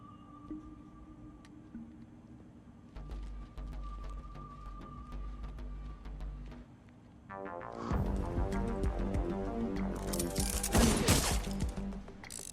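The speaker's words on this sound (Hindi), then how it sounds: "ओए शशिकांत, वाकई गोली चलाना आसान नहीं है।" Gunfire from a market fight scene in the Tamil action film LEO: scattered sharp cracks and clatter early on, then a loud, dense burst of shots and crashes mixed with music over the final seconds, with a voice talking beneath.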